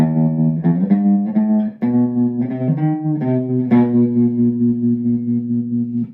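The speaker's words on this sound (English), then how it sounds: "I'm going to turn on my amplifier to a setting that sounds like reverb" Electric guitar through an amplifier with heavy reverb, a few picked notes and chords ringing out with an echoing, washy tail.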